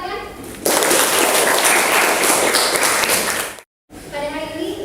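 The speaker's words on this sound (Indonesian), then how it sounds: "Beri tepuk tangan." Students in a classroom burst into loud, close applause for a classmate's maths answer, a dense clatter of clapping lasting about three seconds before cutting off, with brief voices before and after.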